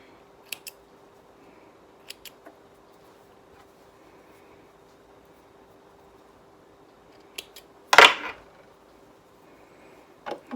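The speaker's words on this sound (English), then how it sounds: "Snip the threads." Scissors snip threads after a jersey hem is sewn, with a few small clicks and one louder close cut in an otherwise quiet room.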